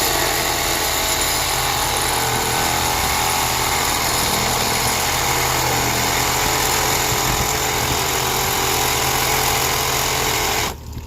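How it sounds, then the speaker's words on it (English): A Sawzall reciprocating saw runs continuously, cutting into a cracked Jandy pool filter housing, a loud steady buzzing motor drone with rasping blade noise that stops abruptly at the very end. "Get your Sawzall started in there."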